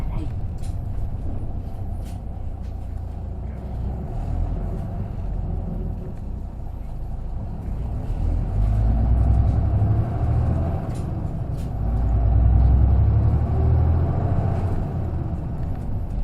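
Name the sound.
Isuzu KK-LR233J1 Hakone Tozan bus driving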